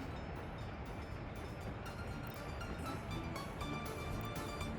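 Train running along a track in the rail-building game Workers & Resources, a steady dense rumble with faint rail clatter throughout, continuous and fairly quiet, with no speech.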